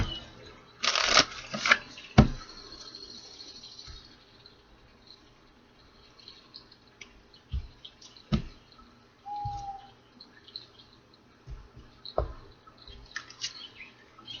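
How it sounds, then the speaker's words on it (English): A brief burst of tarot card shuffling near the start, then quiet room tone with a few soft taps and faint rustles. "One more shuffle."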